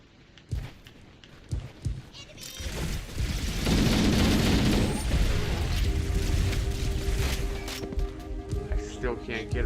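A grenade blast in Halo CE on Legendary difficulty, preceded by a few sharp thuds and then a loud, sustained roaring explosion with rumbling debris that slowly fades under ongoing game noise.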